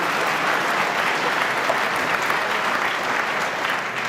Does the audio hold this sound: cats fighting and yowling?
no